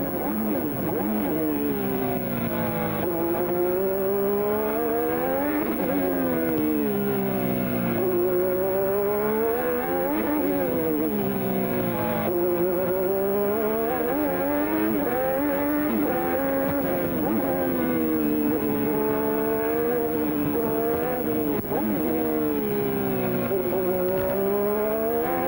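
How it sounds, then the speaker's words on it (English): A 1987 Formula One car engine during Australian Grand Prix qualifying on the Adelaide street circuit, screaming loud and close as it rises and falls through repeated gear changes, with faint commentary beneath. "But just listen to the engine."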